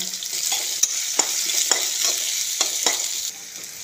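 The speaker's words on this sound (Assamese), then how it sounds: "এতিয়া কাটি লোৱা আদা, নহৰু, পিঁয়াজ, জলকীয়া চব একেলগে দি দিছোঁ। এইখিনি ফ্ৰাই কৰি লওঁ।" Ginger, garlic, onion and chili sizzle steadily in hot oil in a pan, with a spatula scraping and stirring in sharp, irregular strokes over the constant hiss; no voices.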